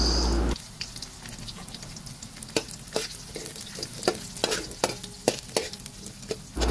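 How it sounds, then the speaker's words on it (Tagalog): Garlic and onion sautéing in a little oil in a hot pan, a continuous close sizzle with irregular sharp pops and crackles, after a short burst of another noise at the start. "At ibinuhos na nga ang konting mantika sa mainit na kawali. Ginisa ang bawang at sibuyas."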